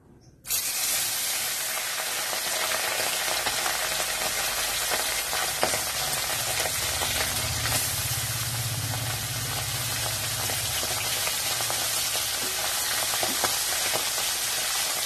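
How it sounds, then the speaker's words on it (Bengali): Pomfret fish slid into hot oil in a wok, bursting into a sudden loud sizzle after a brief quiet moment and then holding a dense, steady crackling hiss close up with no voices. "কড়াই বসিয়েছি, কড়াইতে তেল দিয়েছি, তেলটাও গরম হয়ে গেছে। এখন এক এক করে মাছগুলো"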